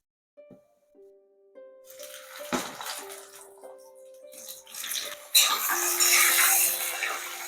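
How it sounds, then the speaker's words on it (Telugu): A metal kadai is set on a stove with a few clanks and a lingering metallic ring, then cooking oil goes in with a growing, loud rushing hiss. "ఇప్పుడు స్టవ్ మీద కడాయి పెట్టుకొని ఒక 3 టేబుల్ స్పూన్ ఆయిల్ వేసుకుంటున్నాను"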